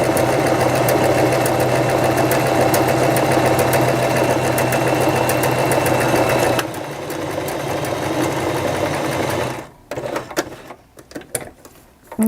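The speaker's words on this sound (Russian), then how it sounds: "2 образца я прошиваю шириной шва на ширину лапки" A sewing machine stitches fabric samples with a steady, fast mechanical whirr, running close and continuously before slowing and stopping into scattered clicks and handling noises near the end.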